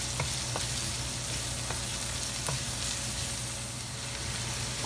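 Onions for Bicol Express fry in a pan with a constant, dense sizzle and a few light clicks of stirring, close and steady throughout, with no voices.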